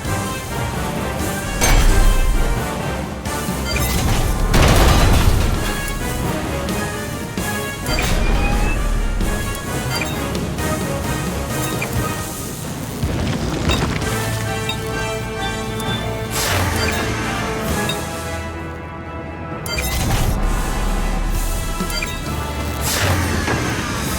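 Heavy explosions and crashing impacts as a mech unit is destroyed in Front Mission 3 Remake, booming blasts and thuds layered over a continuous game soundtrack, loud and repeated across the stretch.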